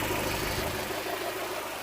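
A 2005 Land Rover Freelander 1.8 petrol engine idles roughly with a misfire, a close, steady mid-pitched engine drone with an uneven, faintly stumbling pulse and no talking.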